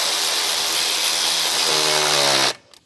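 A power tool whirs loudly and steadily as a screw is driven into a brake rotor, its pitch shifting near the end before it cuts off abruptly.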